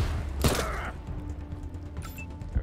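A precision attack in Wasteland 3 fires one sharp burst of gunfire over a steady game background hum, then a brief mechanical clatter follows.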